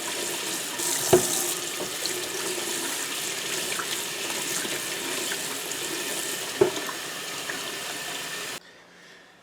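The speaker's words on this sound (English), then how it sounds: "squeeze them under the water here to get some of" Tap water runs steadily and close over a sink while tie-dyed socks are rinsed and squeezed under the stream, with a couple of brief knocks before the flow cuts off near the end.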